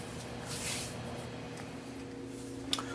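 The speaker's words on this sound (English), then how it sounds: "We're going to spray from the inside, but we want to make sure all the chemicals are off of it." Aerosol spray paint hisses inside a clear Lexan RC car body, a short soft burst rising and fading over a steady background hum, close by.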